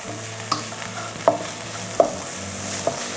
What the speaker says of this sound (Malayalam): ഉള്ളി ഒന്ന് ഫ്രൈ ആയി വരുമ്പോഴത്തേക്ക്